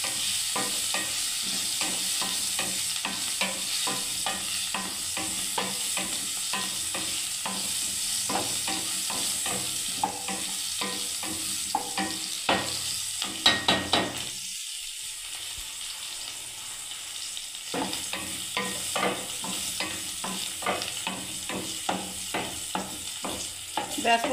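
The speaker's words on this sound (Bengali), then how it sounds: "ব্যাস বন্ধুরা ফুলকপিটা ভাজা হয়ে গেল।" Cauliflower florets with turmeric frying in oil in a pan, with a steady sizzle under repeated rhythmic scraping strokes of a spatula stirring, a brief pause in the stirring midway, close and clear without talk.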